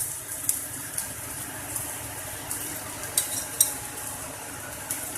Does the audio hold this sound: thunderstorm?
no